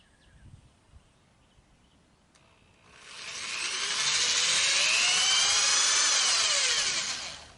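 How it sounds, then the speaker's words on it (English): Power drill boring a pilot hole for a long screw while a wireless camera anti-theft mount is installed, a quiet start and then a loud high whine that ramps up, holds steady for several seconds and trails off. "Then of course, you're going to drill a pilot hole."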